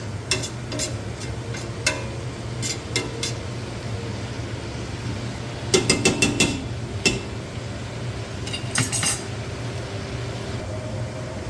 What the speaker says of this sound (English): Stir that through again and keep cooking it.